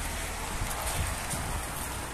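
Rain falling outdoors, a soft, even patter and hiss of drops on nearby surfaces, steady and fairly faint with no voices.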